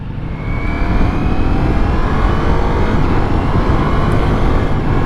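A 2023 Ducati Multistrada V4S motorcycle on the move, its engine a loud, steady low drone blended with rushing wind noise, constant throughout from a close riding position.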